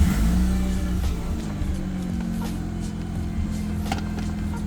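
A Mazda RX8 R3 rotary engine running close by, a steady low droning hum that eases slightly after the first second, with no talk.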